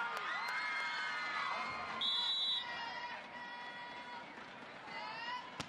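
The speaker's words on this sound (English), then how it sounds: "Give it a round of applause for the referee." Spectators at a 2008 AVP beach volleyball final in Omaha cheer and whoop in a sustained, fairly loud roar, with shrill individual shouts standing out above the crowd noise.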